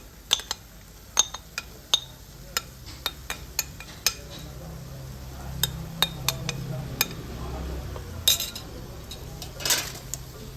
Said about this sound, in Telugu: తర్వాత మనం ఈ రొయ్యలన్నీ వేసేసుకోవాలి.